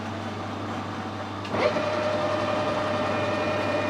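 A lathe takes a light internal cut to put a lead onto a thread, on a motorbike headstock nut, with a steady mechanical hum and whine. A brief scrape marks where the tool engages partway through.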